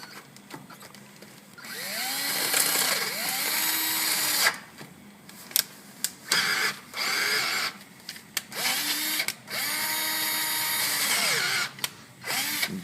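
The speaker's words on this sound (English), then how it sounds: "Keep going one size bigger until you get to 3/8 drill bit." Power drill boring into metal with a lubricated bit while repairing damaged threads, the motor whining in long sustained runs broken by brief stops and short bursts as the bit catches, close and fairly loud.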